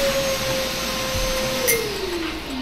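A household vacuum cleaner runs steadily at close range with a constant drone, and its motor pitch slides lower toward the end. No one speaks.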